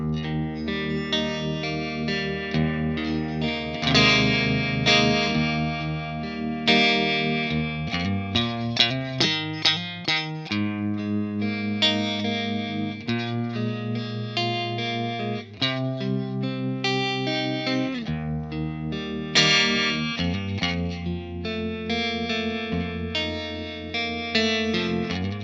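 Electric guitar through a JHS 3 Series Harmonic Trem pedal plays chords and melodic phrases with a pulsing, wavering tremolo, steady and sustained throughout with no talking.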